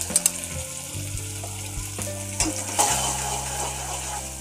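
Ginger garlic paste hits a hot pan for paya, bursting into loud sizzling with a few metallic clinks and scrapes of utensils, then settling into a steady fry.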